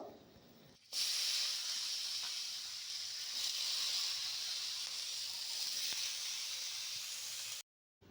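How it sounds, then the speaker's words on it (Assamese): Potatoes, cabbage, peas, carrots and beans drop into a kadai of hot oil spiced with panch phoron, chilli, ginger and turmeric. A loud, sudden hiss bursts in and holds as a steady, close sizzle until it stops sharply. "আৰু এতিয়া চব্জিখিনি এড কৰিব।"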